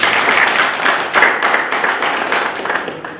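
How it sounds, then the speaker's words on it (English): An audience claps hands at a talk on agriculture and sustainable futures, a close, dense burst of clapping that fades slightly over a few seconds, with no talk. "we can clap hands to that"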